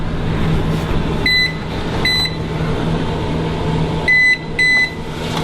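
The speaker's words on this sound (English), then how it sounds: "Timer." A kitchen timer beeps over a steady appliance hum, sounding in short paired bursts at the start and again near the end, loud and close with no talking.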